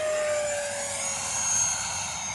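E-Flite F-18 Hornet 80mm EDF RC jet with a 980mm span in flight: a loud, steady ducted-fan roar and whine that shifts slightly in pitch as it passes, with no talking.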